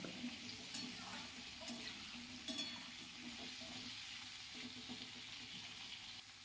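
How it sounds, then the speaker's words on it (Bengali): Pumpkin pieces frying in oil under a lid in a pan, a soft continuous sizzle with a few light knocks and clinks of the lid or spoon, fairly quiet and even. "ঢাকা দিয়ে দিয়ে ভাজছি, যাতে কুমড়োটা খুব তাড়াতাড়ি নরম হয়ে যায় এবং ভালোভাবে ভাজাটাও হয়।"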